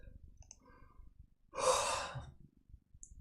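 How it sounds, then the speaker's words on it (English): A single long, breathy yawn or sigh rises out of near silence, close and clear, lasting about a second before fading away. "and then draw out your yawns"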